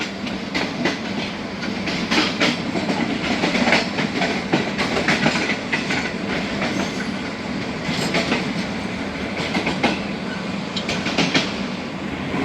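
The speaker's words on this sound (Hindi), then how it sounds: "तीन बजकर 47 पर पन्नो आकिल कैंट पास हो रही है जनाब ट्रेन" The Karachi Express passenger train runs through Pano Akil Cantt at reduced speed, a loud steady rumble with rhythmic clickety-clack of wheels over rail joints and brief squeals, heard from close by without speech.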